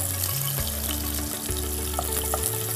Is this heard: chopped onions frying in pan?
yes